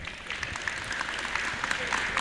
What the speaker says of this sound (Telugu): సో ప్లీజ్ ఒక్కసారి వీళ్ళిద్దరికి మాత్రం నాకు ఒక్కసారి మీరు అందరూ చప్పట్లు కొట్టాలండి.